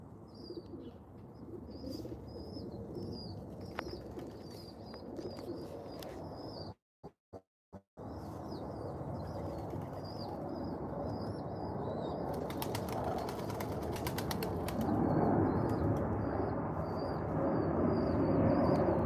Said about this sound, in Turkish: Güvercinleri size gösteriyorum.